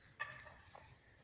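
Chickens cluck in a village barn that also holds chicks and turkeys, with a short burst of clucking early on and a softer second call a moment later over low rumbling background.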